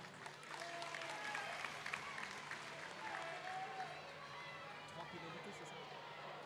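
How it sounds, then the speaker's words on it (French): Crowd applause at a wheelchair rugby league test match between France and England, a steady broad wash of clapping filling the stands, with commentators talking over it throughout. "La preuve sous les applaudissements avec l'équipe d'Angleterre pour les encourager."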